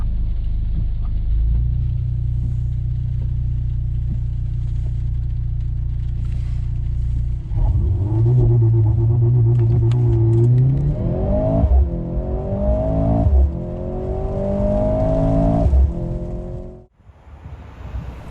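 A Mercedes-AMG C43 engine idles in a low steady rumble, then launches in race start mode and accelerates hard, its note climbing through several upshifts, loud and close, before it cuts off sharply near the end.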